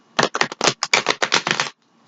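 Tarot cards being shuffled by hand, a rapid run of about a dozen crisp riffling bursts close up, alone without talk, ending abruptly.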